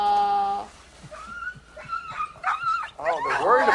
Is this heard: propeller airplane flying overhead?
no